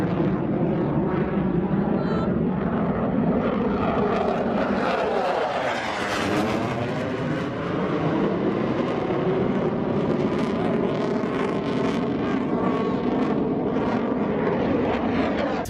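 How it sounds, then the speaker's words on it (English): Loud, continuous roar of F-16 fighter jets passing close overhead on the runway approach path, a steady rumbling blast that swells and shifts in pitch as the planes go by. "the first three planes that came out were actually F-16"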